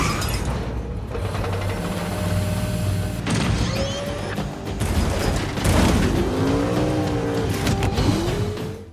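A Ford GT40 from Fast Five drives past with a rough engine roar that swells and fades, mixed with mechanical clatter and quick revving bursts, fairly loud and busy.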